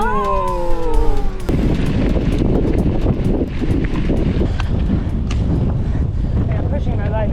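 Strong desert wind during an El Paso race roars steadily across the microphone in heavy, continuous gusts, with a brief voice-like tone at the start before the rushing noise takes over.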